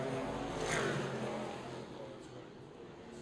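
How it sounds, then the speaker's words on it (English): A pair of AC Cobra race cars pulls out of the pit lane at a motorsport festival, a brief engine swell rising and then fading as the cars move away, with faint commentary talk underneath. "these 2 cars work their way out of Pertamina Fastron"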